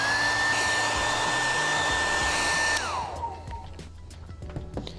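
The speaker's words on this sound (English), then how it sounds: "To speed up the process, we're going to use a hairdryer" A hair dryer blows with a steady, loud whine for a few seconds while warming a leather bag repair, then switches off and winds down, leaving quiet handling noises.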